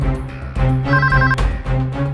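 A telephone rings during a tense domestic drama scene, with the tone repeating in steady bursts over a low music bed. No one speaks.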